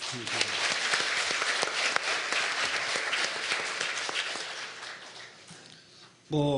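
An audience at an international education symposium applauds a keynote talk with steady, dense clapping that holds at an even level for several seconds before a voice cuts in near the end.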